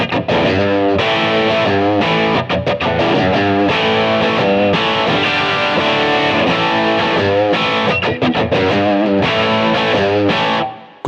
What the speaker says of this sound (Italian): Questo è il suono del pickup humbucker.